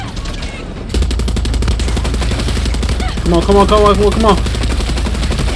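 A mounted turret machine gun in the shooter game Far Cry 6 fires in a loud, steady rapid-fire stream after a short pause. Someone shouts briefly over it, and a rising electronic warble joins near the end.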